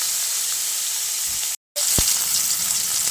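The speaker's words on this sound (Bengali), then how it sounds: "একটু হালকা করে মাছ ভেজে নেব" Rohu fish pieces sizzle steadily as they fry lightly in a pan, a continuous bright hiss that cuts out for a brief moment midway and then resumes.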